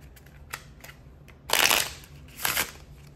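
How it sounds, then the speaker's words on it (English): Tarot cards are shuffled during a reading: a couple of soft taps, then a loud riffling burst and a second shorter riffle, close by with no talk. "Last shuffle."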